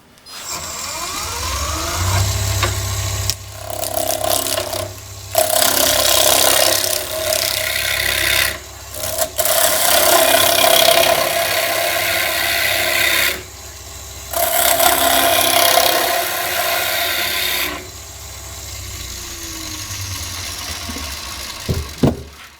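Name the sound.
wood lathe turning a wooden angel ornament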